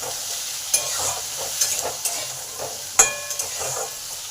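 Potatoes sizzle in hot oil in a pan, with a steady frying hiss and sharp scraping clicks of a spatula stirring them at close range.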